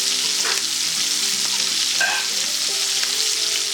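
Steaks fry in a hot skillet with a steady, close sizzle and crackle that holds at an even loudness throughout, with a few sharper spits and pops but no voices.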